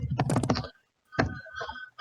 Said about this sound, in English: By sounding off, I did not say keep typing.